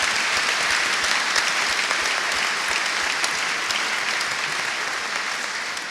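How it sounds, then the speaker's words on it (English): Steady, dense audience applause fills a business lunch hall at a Northern Ireland Chamber of Commerce panel event, a continuous close roar of many hands clapping for Pat Jennings without a break. "Give Pat Jennings a big round of applause as well"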